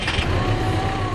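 A toy ride-on vehicle starts up with an ignition-key sound effect, a short, loud, close burst of engine rumble and whine.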